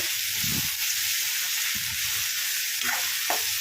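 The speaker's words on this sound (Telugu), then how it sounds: "ఈ బోటిని ఆయిల్లో అయితే బాగా ఫ్రై చేయాలి." Cleaned, cut goat tripe frying in oil for a village-style curry: a loud, continuous sizzle and hiss, with soft stirring scrapes underneath and no talking.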